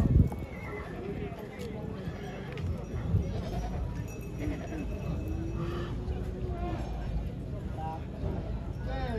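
Draft horses whinny and neigh amid a busy outdoor horse market crowd in Sighetu Marmației, Romania, with hooves clopping and people talking over a steady background din.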